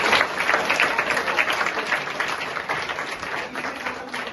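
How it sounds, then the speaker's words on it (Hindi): Enthusiastic audience applause at a community program on students' intellectual development: dense, continuous clapping from a large crowd, loud and close, holding steady for over four seconds with no speech on top. "एक बार जोरदार तालियां इनके लिए"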